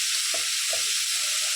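Gram flour and spices roasting in a hot pan give off a steady, bright sizzling hiss throughout, with a couple of faint soft scrapes underneath and no talking.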